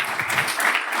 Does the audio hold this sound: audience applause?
yes